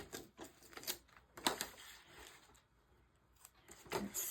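Masking tape being pulled and pressed down to mask off a section of a coastal textured canvas made with modeling paste, giving several short, close crackling rips and rubs in bursts, with quieter pauses between.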